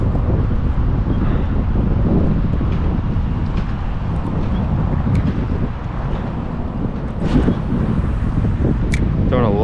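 Wind gusts steadily across the microphone out on the water during kayak fishing at Chickamauga Dam, a loud, rough buffeting roar through the whole stretch with small scattered knocks and splashes.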